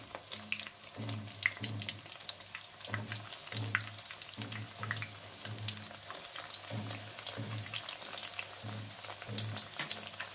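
Dough fries in hot oil with a steady crackling sizzle, interrupted by soft rhythmic stirring or scraping knocks in the pan, close and moderately quiet throughout.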